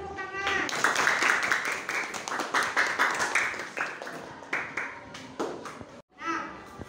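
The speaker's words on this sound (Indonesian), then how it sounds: "Beri tepuk tangan." A room of people at a teachers' group presentation session claps steadily for several seconds, dense and fairly close, with voices mixed in, then the clapping stops abruptly and briefly resumes.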